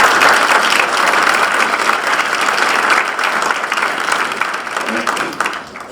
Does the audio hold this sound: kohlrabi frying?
no